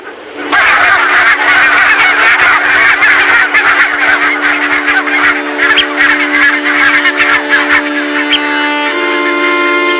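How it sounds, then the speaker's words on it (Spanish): A flock of geese honks loudly and continuously on Inishkay, an island off Ireland's wild coast, with overlapping raucous calls nearby forming a dense chorus that thins slightly toward the end. "los gansos siguen llamando."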